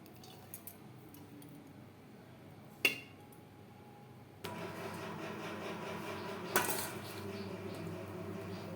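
Cooked rice is tipped into a thick aluminium wok in a quiet kitchen, with two sharp metallic clinks and a soft rustling shift partway through.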